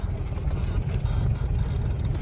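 A car heading off-road through bushes and across a ditch toward a cabbage field, its engine a loud, steady low rumble with rustling and rattling over it, heard from inside.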